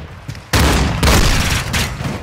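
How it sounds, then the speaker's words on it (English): Grenade blasts in Call of Duty: Modern Warfare II, two heavy booming bursts in quick succession with rumbling debris tails, loud and close amid game noise. "Grenade!"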